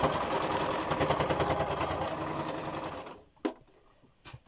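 A sewing machine stitches a fabric mask in a fast, loud, even whir that runs for about three seconds, then stops, followed by a couple of sharp mechanical clicks in near quiet.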